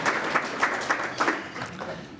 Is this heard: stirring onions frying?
no